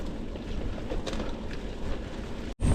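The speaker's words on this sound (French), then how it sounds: "Bon bah il y a quand même du vent hein." Wind gusts buffet the microphone during a mountain bike ride through tall trees near Ath, Belgium, a steady rushing roar with a brief dropout near the end and no speech.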